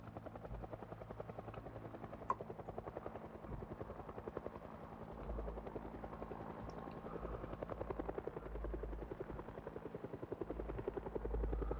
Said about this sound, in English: Of course we get a helicopter event.